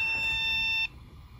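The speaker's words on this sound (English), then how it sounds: "One long beep code." A computer motherboard gives one long POST beep, a steady high-pitched electronic tone lasting under a second before it cuts off into faint room hum.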